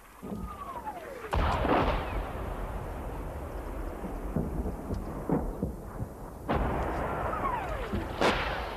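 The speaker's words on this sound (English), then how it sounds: "Then, suddenly, the Serbian artillery opened up." Serbian artillery fires in Bosnia in 1992, with distant booms rolling across open country. Several heavy thuds and rumbles land over a steady windy background.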